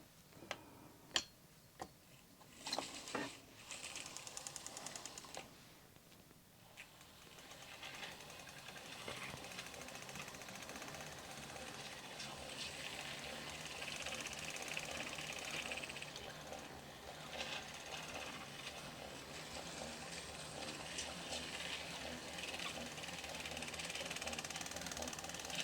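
An 1898 Singer 28-2 sewing machine winding thread: a few sharp clicks and knocks, then a steady mechanical whir with a faint ticking rhythm that runs on at a close, moderate level with no talking.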